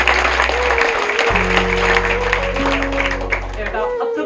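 An audience claps for a student selected for the Air Force, a busy round of applause mixed with sustained low humming tones and voices in the background.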